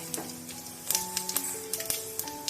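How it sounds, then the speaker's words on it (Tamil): Mustard seeds and cumin splutter in hot oil for a spinach and lentil kootu, a quick run of small crackling pops over a low sizzle, with faint steady tones running underneath. "கடுகு கொஞ்சமாக சீரகம் இது ரெண்டும் நல்லா பொரியட்டும்"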